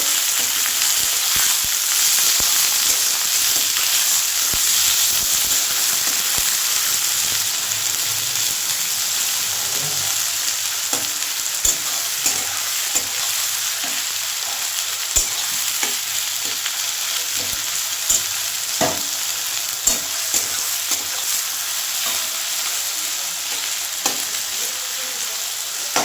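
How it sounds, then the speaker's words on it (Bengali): Long-sliced onions fry in a pan, giving a loud, steady sizzle throughout, punctuated by scattered clicks and scrapes as the utensil stirs them. "কিছুটা পেঁয়াজটা দিয়ে দিলাম এই পেঁয়াজটা একটু বেশ ভালো করে ভেজে নেব প্রথমে"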